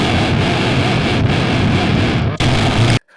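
A burst of dense, chaotic distorted guitar noise from a Neural Amp Modeler reamp test file, harsh and broadband with a brief dip near the end before it cuts off abruptly.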